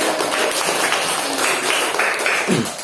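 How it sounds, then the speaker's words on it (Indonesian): A classroom of students in Indonesia claps together for a classmate's answer, a dense burst of many hands that fills the whole moment with no voices over it. "Kita kasih tepuk tangan sekali."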